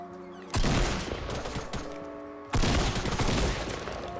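Gunfire in a Fortnite Battle Royale match: a loud burst of rapid shots at the half-second mark, continued crackling fire, then a second heavy volley near the end, dense and close with no talking.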